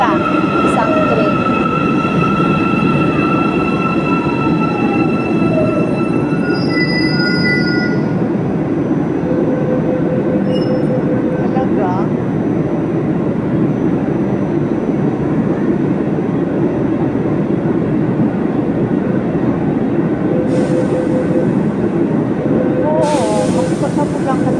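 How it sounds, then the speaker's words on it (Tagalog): Train in Cairo rolling past close by with a loud, constant rumble and clatter of wheels, thin squeals rising over the din, and voices heard faintly beneath the noise. "Ayan train. Isang train."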